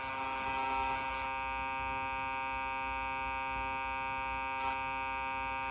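Steady buzzing tones from a Wacom tablet pen button, picked up through an AM radio, held under a constant electrical hum with a brief brighter burst near the start and a faint blip later.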